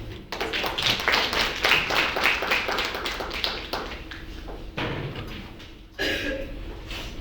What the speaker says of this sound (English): Let us give Dr. Hilya another round of applause